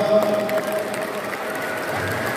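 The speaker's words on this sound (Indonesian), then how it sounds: "tepuk tangan buat kita semua." An audience at a political party briefing for election witnesses gives a short round of applause, soft and somewhat distant, continuing steadily under a faint tonal hum.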